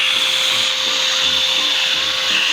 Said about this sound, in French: On va mettre l'aspirateur en mode aspirage